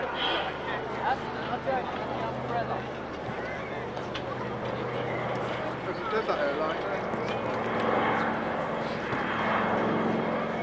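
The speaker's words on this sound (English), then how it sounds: "let's listen to the smooth sound of those Pratt & Whitney R2000 engines" A Spirit of Freedom airlift transport with Pratt & Whitney R2000 radial engines makes a steady, smooth drone as it passes at an airshow, with crowd noise around it.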